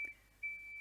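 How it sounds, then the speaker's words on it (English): A big truck's reversing beeper sounds outside a window, a steady high tone holding faintly in the background for the whole short moment. "there's a big truck beeping"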